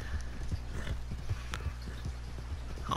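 Horse hooves clip-clop at a steady walking pace in Red Dead Redemption 2, a close, even rhythm of soft thuds with faint talk in the background.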